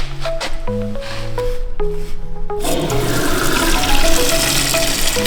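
Hot water runs from a tap into a sink in a workshop, a steady loud rushing and splashing close by. Brief tonal beeps sound at the start, before the flow takes over.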